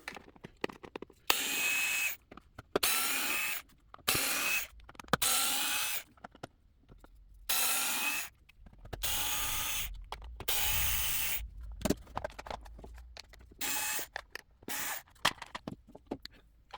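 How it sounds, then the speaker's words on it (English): A screwdriver driven in short repeated bursts unscrews the center plate on a Traxxas Xmaxx, each whirring spin a second or so long with brief pauses between, close and fairly loud. "So I've got my little trusty screwdriver here."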